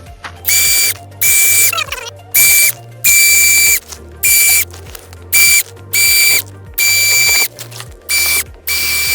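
A number 7 high-strength drill bit bores out a hole while a golf cart windshield is installed: about ten loud, close bursts of whirring drilling, each starting and stopping sharply, separated by short quiet gaps.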